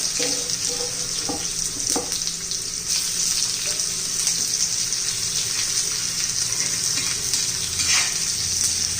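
Onion fries in hot oil with cumin and garlic for a green chili dish, a dense continuous sizzle with occasional stirring scrapes throughout.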